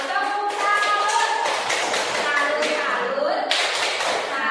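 A group claps together in a quick, steady rhythm as a cheering salute, the dense claps continuing throughout with voices mixed in.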